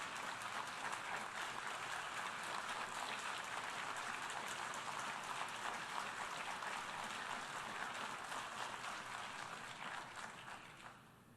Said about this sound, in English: sustained applause for the Prime Minister of Israel and the General Assembly